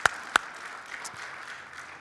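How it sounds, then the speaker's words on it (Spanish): Congregation clapping in a church during a Spanish-language sermon, a steady moderate wash of applause opening with two sharp nearby claps and then fading into a softer, even patter. "Dale un aplauso."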